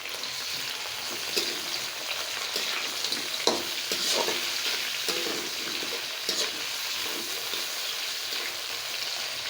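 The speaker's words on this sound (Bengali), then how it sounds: "এখানে মাংসটা ভাজা নেব।" Quail meat and onion fry in a pan with a steady, dense sizzle and occasional stirring clatter, continuous and close throughout with no talking.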